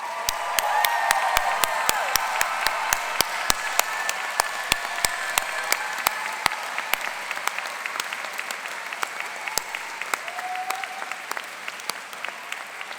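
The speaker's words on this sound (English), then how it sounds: "give them the biggest round of applause you can" Medical school graduates at a Tufts University commencement turn and applaud their families, a large crowd clapping steadily in a big hall with faint cheers, sustained for over ten seconds and tapering slightly.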